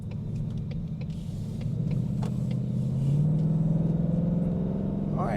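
A Coyote V8 car fitted with a new FTI torque converter rolls along in a steady low engine rumble, the drone swelling slightly partway through as it pulls away, with no talk over it.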